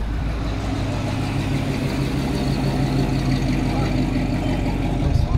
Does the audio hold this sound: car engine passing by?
yes